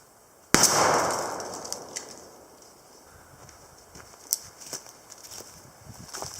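A turkey shotgun fires once at a 50-yard target outdoors: one sharp, loud blast whose echo rolls off and fades. Faint clicks and small handling knocks follow.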